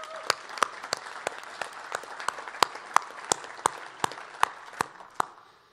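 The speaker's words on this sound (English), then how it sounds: "let's give them a round of applause" Audience applause at a conference honoring organic farmers, with evenly spaced sharp claps standing out in a steady rhythm over a softer crowd clapping wash, fading near the end.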